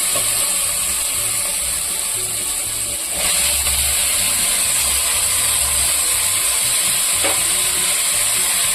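Chopped tomatoes frying in a pan with ginger-garlic paste for a country chicken curry, a steady loud sizzle with a few scraping stirs, close and without talk.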